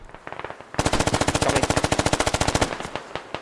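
A long, rapid automatic burst rattles out close and loud in the military shooter Squad, some thirty evenly spaced shots after a few scattered single cracks, then trailing off.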